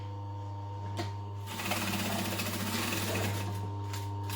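A sewing machine stitching over the edge of a fabric tote bag, a steady close mechanical whir starting after a short click and running for a few seconds without talk.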